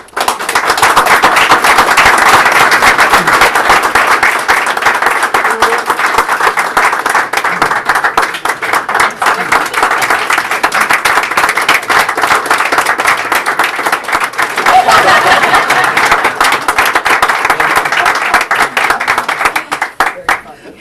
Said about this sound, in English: Superintendents are not used to applause.